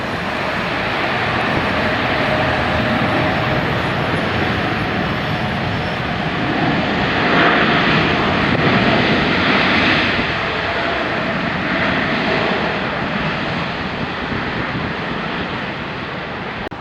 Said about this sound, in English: Air France 777. Oh, this might be a bad landing.